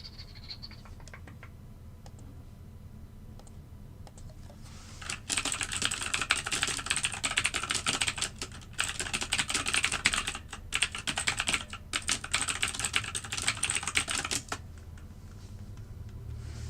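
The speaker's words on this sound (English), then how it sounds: "You guys in TikTok just hear the keyboard a lot more because you're sitting right above my keyboard." Steady rapid typing on a computer keyboard close by, running in a dense burst for several seconds before easing off, with no talking.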